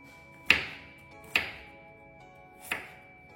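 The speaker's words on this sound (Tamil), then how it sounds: "மாகாணி கிழங்க கட் பண்ணிக்கலாம்" Three separate knife chops through mahali root land on a cutting board at uneven intervals, each a crisp close thunk in an otherwise quiet room.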